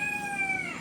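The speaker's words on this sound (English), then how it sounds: "Those are my little roosters." A young rooster gives a brief crow, a single short, strained call that is moderately loud and heard alone with no talking.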